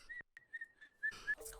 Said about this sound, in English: The whistle is crazy.